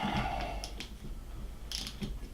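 A 9/16 socket wrench ratchets on a nut during a South Bend lathe restoration, giving a few short metallic clicks over a quiet workshop background.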